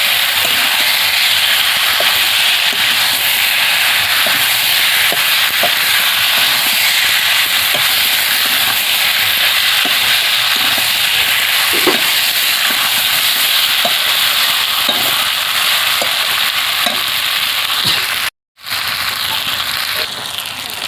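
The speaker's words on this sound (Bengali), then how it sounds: "এখানে ভেজে রাখা হিঁচড় আলুটা দিয়ে কষিয়ে নেব" Fried jackfruit and potato pieces stir-fried in spiced masala for a curry, giving a loud, dense, continuous hiss of hot oil close by with faint scraping stirs beneath and a brief break near the end.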